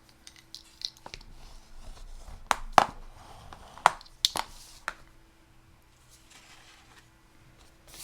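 Embossed textured cardstock is cut for a pop-up petal card. A handful of crisp, close snips and clicks come in an irregular cluster over quiet room tone, with no talking.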